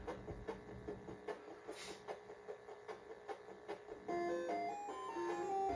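Chiptune game music from M.U.L.E. playing on an Atari 800: short repeating plinky notes in a steady pulse, then a sustained melodic line with held tones, clear and alone.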